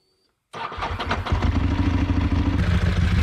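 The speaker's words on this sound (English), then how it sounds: "The engine responded instantly, and the test drive couldn't have gone any better." A restored 22-year-old Ducati sportbike engine cranks and catches after a moment of silence, then settles into a loud, steady, rumbling idle with a mechanical clatter, heard close and alone.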